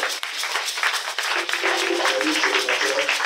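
A church congregation in Côte d'Ivoire claps and cheers for a pastor, a steady dense patter of many hands with a few sharper claps, under a loud, continuous wash of crowd noise.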